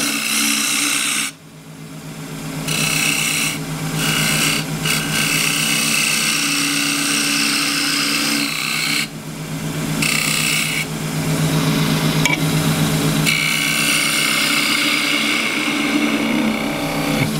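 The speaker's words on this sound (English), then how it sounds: "I'm going to do that with the 3/8 spindle gouge." A she-oak bowl spins on a wood lathe while a 3/8 spindle gouge cuts it, giving a loud, continuous raspy cutting noise over the lathe's hum, broken by a few short pauses.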